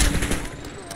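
Dense gunfire in a Call of Duty: Black Ops 6 multiplayer Hardpoint match, a continuous burst of rapid shots filling the full second alongside game voice chatter.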